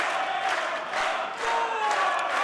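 A wrestling crowd at a tag-team match cheers and roars continuously, a dense, loud wall of voices with rising whoops and shouts throughout.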